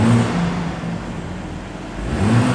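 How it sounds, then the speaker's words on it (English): BMW M440i with a 3-litre turbocharged straight-six revving, a steady, fairly loud mid-pitched engine drone that swells slightly at the start and end, with no talk. "Want to know what the engine sounds like? Well,"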